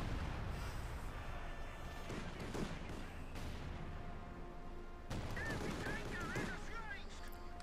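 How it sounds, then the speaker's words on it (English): Artillery fire from two 25-pounder guns in the Company of Heroes 2 strategy game, with booming blasts and rattling gunfire over a dense, continuous battle din. "A lot of artillery fire there from Albert's 2 25-pounder guns"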